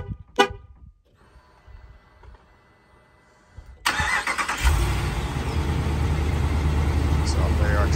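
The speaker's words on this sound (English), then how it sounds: "Truck starts up" A Ram 2500 pickup activated by a remote start kit gives a short horn chirp and some faint clicks, then after a pause the engine cranks and fires up. It settles into a steady, loud idle that runs to the end.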